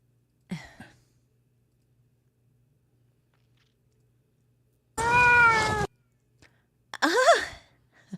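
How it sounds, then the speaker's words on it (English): A cat sound played by accident: a short faint sigh, then a loud drawn-out meow followed by a second rising meow, separated by silence. "Did I just play a cat?"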